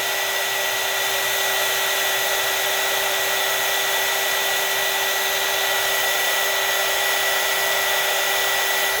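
A heat tool blows steadily to melt embossing powder for a Christmas collage craft, a loud, continuous, close-up whirring hum with an even high-pitched whine and no break across the whole stretch.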